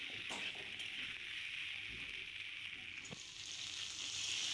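Chopped potatoes and onions fry together in a pan with a quiet, continuous hiss, broken by soft stirring scrapes and a couple of light taps.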